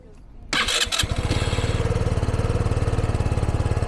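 A fuel-injected Yuki Imola 125 scooter engine cranks with a few sharp starter bursts, then catches and settles into a fast, even putter, loud and close.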